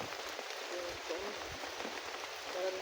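Steady rain patters on a surface outdoors, a continuous soft hiss with scattered drops, while faint voices talk intermittently underneath.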